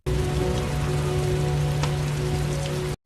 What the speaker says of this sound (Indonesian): Hujan deras turun sepanjang malam.